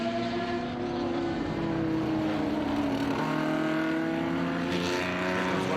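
Vintage race cars, an Alfa Romeo, a Datsun and a Lotus Europa, roar past on the Mid-Ohio circuit, their engines blending into a continuous, moderately distant droning rumble with shifting pitch and no talk.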